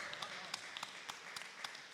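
Scattered audience clapping in a meeting room at a community board session in East New York, Brooklyn: faint, sparse, uneven claps, moderately distant, with no one speaking over them.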